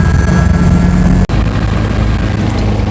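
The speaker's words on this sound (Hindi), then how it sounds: "उड़ान भरने के लिए तैयार हैं हेलीकॉप्टर।" A helicopter on a Kedarnath flight route runs loud and close as it readies for takeoff, its engine and rotor giving a steady roar with a brief dropout near the middle and no talk.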